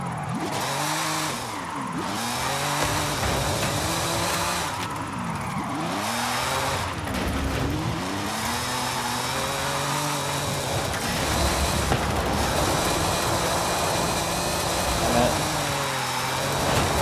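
Ferrari 599 tuned to 900 horsepower with traction control off in Forza Horizon 5, its engine revving hard and continuously, pitch sweeping up and down through repeated gear changes, with tire squeal, loud and close throughout.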